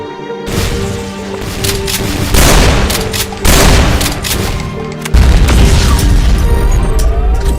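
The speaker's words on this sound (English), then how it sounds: "Twice the legendary plasmatic rifle shots." Legendary plasmatic rifle blasts firing twice in a Doom mod inside a chaotic fight against Cyberdemons, heavy booming shots layered over a dense roar of explosions and gunfire that swells sharply at two points.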